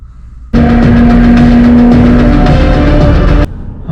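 Formula 1 race cars scream past a trackside spectator spot, a loud sustained high-pitched engine roar lasting about three seconds with a rising whine, then dropping back to distant background rumble.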